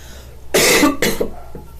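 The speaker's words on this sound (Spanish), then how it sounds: "Perdón, chicas, pero aún sigo enferma, no puedo evitar no toser" Two harsh coughs in quick succession, loud and close, the first longer than the second, followed by a short throaty trailing sound.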